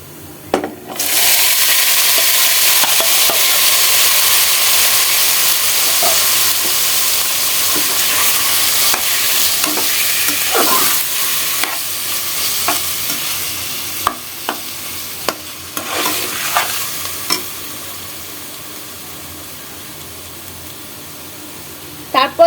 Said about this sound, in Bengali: এখন আলু মিক্সটা ফ্রাই প্যানে ঢেলে দিচ্ছি